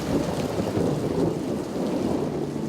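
Steady rain falls on a morning in the small town of Hilton, Oklahoma, a dense, continuous wash of drops with a low rumble underneath and no voices.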